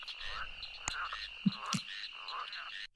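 A frog croaks in a video game, two short low croaks close together over a faint ambient hum with a couple of sharp clicks, no talking.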